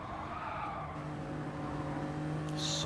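BMW race car sliding sideways in a BTCC league race on the Dragon Trail Seaside circuit in a racing video game, engine droning steadily with tire scrub building near the end, close and continuous.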